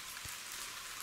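Steady rain pours at a beach resort in Sanya, Hainan, a dense, even hiss filling the whole moment with a faint low thump early on and no voices.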